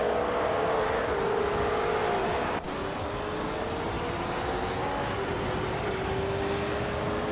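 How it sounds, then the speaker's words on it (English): A 1966 Ford GT40 race car in a racing game, its engine droning loud and steady with a rising pitch, a brief sharp break midway, then continuing at speed. "Joan Wolf is driving a 1966 Ford GT 40 Monkey I.O."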